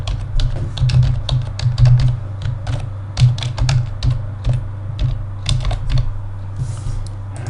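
Rapid, close clicking of a computer keyboard as an Apple ID password is entered, steady bursts of keystrokes with brief pauses, no voices.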